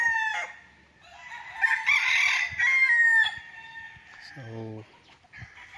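Chickens in a coop on a farm lot in Liliw, Laguna, with a rooster crowing in a long drawn-out call and hens clucking nearby, interrupted briefly by a spoken word.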